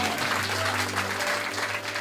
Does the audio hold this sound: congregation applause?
yes